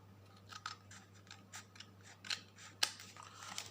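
Scissors cutting paper to make a notebook: a series of close, crisp snips in an uneven rhythm, each a short sharp cut with small rustles between, over a quiet low hum.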